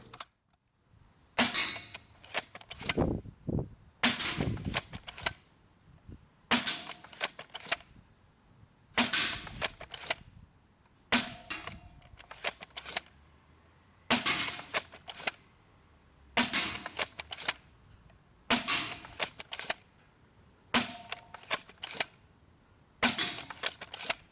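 A Jet Blaster Omega foam dart blaster with a 16kg spring fires ten sharp, loud snapping shots in a steady, evenly spaced rhythm, each with a brief mechanical clack, set against quiet background.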